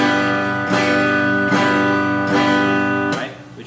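Open chords strummed on a guitar with the fretting hand held down the whole time, four sustained strums ringing together at an even pace, loud and close with no gaps between them.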